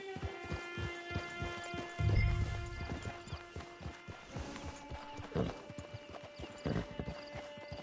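Horse hooves clip-clop steadily in the video game Red Dead Online, a rapid, even rhythm of close, sharp hoofbeats over sustained musical tones and a brief low thump, with no talking.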